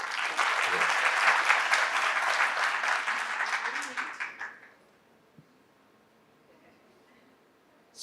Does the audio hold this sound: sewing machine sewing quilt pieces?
no